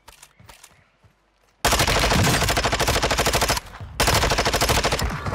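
Vazib rifle firing in Warzone 2: two long, loud, close bursts of rapid automatic fire separated by a short pause, with only quiet game sounds before them.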